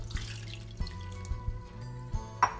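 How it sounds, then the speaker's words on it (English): Water poured into a bowl of cake batter ingredients at home, a short splashing trickle with faint kitchen clatter and a brief clink near the end. "And then next we're gonna add our water."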